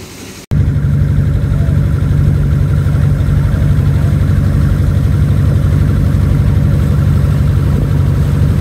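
A loud, steady fishing trawler diesel engine drones at low pitch throughout, a constant rumbling idle with no talking, on the Bay of Bengal.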